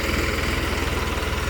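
A Farmtrac 60 tractor runs in a farm field, its diesel engine giving a loud, steady, low thumping rumble close by with a regular pulsing beat.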